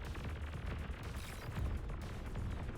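Bombing run in the strategy game Beyond All Reason, a dense, continuous rumble of overlapping explosions heard at a distance with no pauses.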